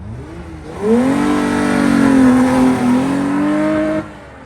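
A mid-mounted Toyota 3.0 V6 in an MR2 revs up, its engine note climbing and holding high for about three seconds before dropping away, loud and close with no talking.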